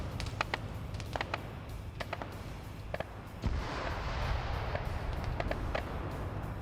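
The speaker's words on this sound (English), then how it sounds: "Oh, they're shooting at them." Video game battle gunfire: repeated sharp gunshots and distant artillery-like booms cracking out in irregular bursts over a constant low rumble, growing denser and louder partway through.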